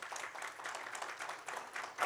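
Audience applause at a conference as a moderator joins the stage, steady faint clapping from a crowd lasting a couple of seconds, distant and even throughout.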